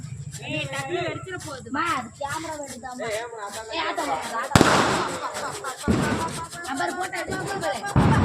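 Diwali firecrackers crackle and burst in a noisy rapid stream after a sharp bang, with children's voices chattering throughout.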